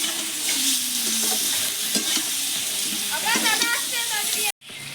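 Potatoes, eggplant and spices stir-fry together for a rohu fish curry with bori, giving a steady close sizzle with scraping stirs and clatter, under brief talk, cutting out abruptly near the end.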